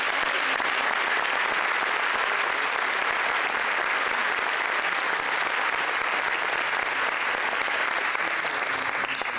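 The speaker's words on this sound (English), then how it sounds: "A big round of applause." Sustained, dense applause fills a hall as an audience at the 2022 Coquitlam Sports Hall of Fame and Wall of Fame awards ceremony claps for inductees, steady and loud throughout with no voices standing out.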